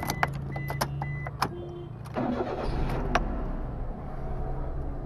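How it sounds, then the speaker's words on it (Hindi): A 2007 Suzuki Alto with a 660cc engine is started: a few clicks and beeps, then the starter cranks for about a second and the small engine catches and settles into a steady close idle. "Let's start the car."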